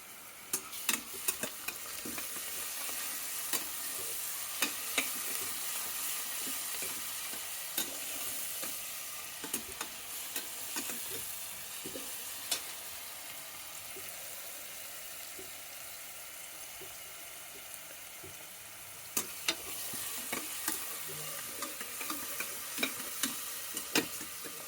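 Half a kilo of mutton frying with ginger garlic paste in a pan, a steady close sizzle with frequent clicks of stirring throughout, no talk.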